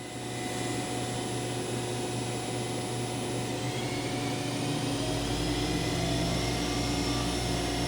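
A Hurco TM8i CNC turning center spindle running at 2500 RPM gives a steady whine with sustained tonal hums, and a deeper low rumble rises partway through and holds.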